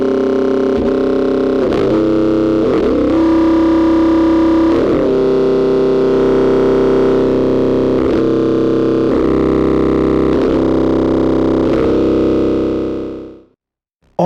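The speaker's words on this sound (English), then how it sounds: "we're going to use the input saturation stage of Jadwiga and its low-pass filter as a distorting filter" A synthesizer tone is pushed through an input saturation stage and low-pass filter, producing a loud, sustained, gritty distorted drone with rhythmic attacks that shift in character before cutting off near the end.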